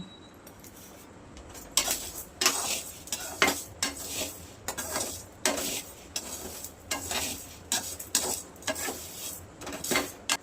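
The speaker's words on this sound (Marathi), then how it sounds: "असे शेंगदाणे भाजून घ्यायचे नाही का मस्त क्रिस्पी होऊसपर्यंत" Peanuts roast in a pan and are stirred, giving repeated scraping and rattling strokes at a steady rhythm over a faint sizzle, fairly quiet and close, with no voices.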